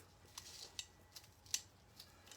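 Scissors snipping through tough rope, a handful of sharp, quiet snips spaced irregularly at close range, with no talk.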